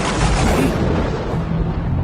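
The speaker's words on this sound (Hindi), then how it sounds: "ठीक है, स्पेशल मिसाइल लॉन्च।" A special missile launch explosion in the GTA 5 video game makes a loud, dense, continuous roaring blast that fills the whole two seconds with heavy low rumble and broadband crackle.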